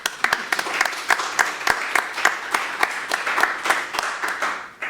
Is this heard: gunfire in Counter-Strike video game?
no